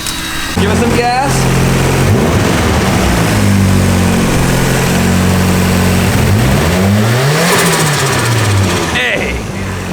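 A car engine revs loudly and close, its pitch climbing and falling through several surges as the throttle is pressed, with a voice talking over it.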